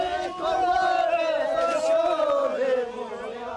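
A festival crowd gathers at night in Trashi Yangtse, Bhutan, with many voices joining in a long, sustained, loud chant or cry that swells and then drops away.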